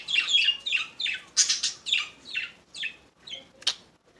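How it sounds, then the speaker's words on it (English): A bird calls repeatedly outdoors near a horse-riding field, a series of sharp, bright squawking chirps in irregular bursts, close and fairly loud, with a faint rustle beneath. "just please try to disregard the bird and the crinkling bag"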